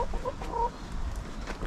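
Soft, scattered clucking from chickens runs through the clip, a few short calls over a low, steady background hum.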